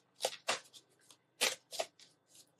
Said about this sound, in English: I'm shuffling Ashley's deck to see what else we need to know